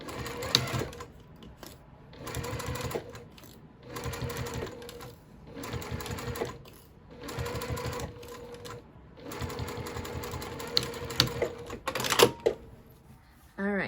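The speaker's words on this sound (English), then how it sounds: "I'm just going to go ahead and sew as close to the teeth as I can get on that" A sewing machine stitches close to the zipper teeth on a small boxy fabric pouch, running in several steady bursts of a couple of seconds each with brief pauses between, near and moderately loud.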